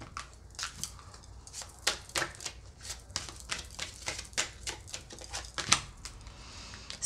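Rapid papery riffling and snapping of tarot cards being shuffled, a series of crisp bursts up close with no talking.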